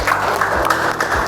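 A brief burst of classroom applause, students clapping for a classmate in a lesson, dense and fairly close with a few louder individual claps standing out.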